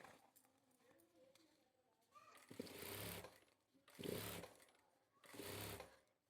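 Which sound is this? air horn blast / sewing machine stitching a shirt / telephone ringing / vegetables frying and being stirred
sewing machine stitching a shirt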